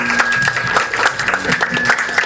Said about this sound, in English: Please give a big round of applause to the guest.